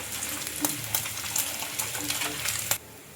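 Food frying in hot oil crackles and bubbles with a busy sizzle, sharp pops and clinks scattered through it, before the sound cuts off abruptly near the end.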